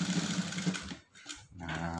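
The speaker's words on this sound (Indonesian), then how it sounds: "Bagian sini juga kita jahit bantu." Sewing machine runs in quick steady bursts of stitching while basting the seam of a rever collar, with a short pause between runs, close and fairly quiet.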